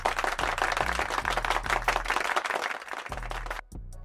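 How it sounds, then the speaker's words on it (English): Brief round of applause from a small group at a basketball talk show about the Timberwolves and Nuggets Game 7, steady close clapping that cuts off abruptly near the end. "We'll give him a round of applause."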